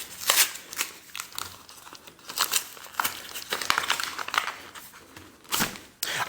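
Paper envelopes being handled and torn open one inside another during a WW2 militaria unboxing, giving close crinkling, rustling and tearing sounds in irregular bursts, with no talking.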